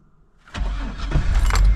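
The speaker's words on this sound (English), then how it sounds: "See if my car will start in this cold." A Chevrolet Astro van's engine cranks and fires up in cold winter weather, faint quiet before a loud start that settles into a steady close rumble, with a light metallic jingle.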